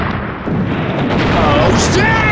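Rocket launcher blast in the NES game Die Hard, a loud, dense rumble of explosive noise sustained throughout, with a voice talking over it.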